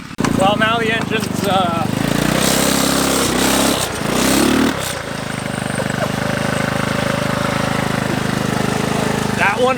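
Small engine of a cheap Ariel Atom style car running loudly with a buzzy, uneven drone, revving and dipping midway, while people talk close by.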